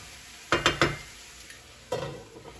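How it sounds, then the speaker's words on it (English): A spoon stirs onions cooking in a pot, giving three quick close scraping strokes, then a pause and one more scrape, with no talking. "Give that a little stir"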